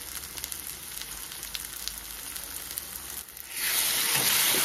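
Fried onions sizzle in a pan as ground spice paste, salt and turmeric go in for a Bengali fish curry; a steady soft sizzle swells into a loud, bright hiss near the end, with no talking.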